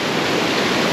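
Asupini Ella waterfall in Sri Lanka roars close and loud, a dense, unbroken rush of falling water filling the whole moment.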